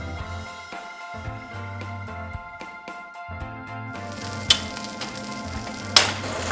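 Keto grilled cheese sandwich frying in butter in a pan, a steady close sizzle and crackle running throughout, with a few sharper pops and scrapes near the end.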